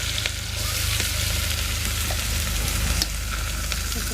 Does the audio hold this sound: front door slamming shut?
no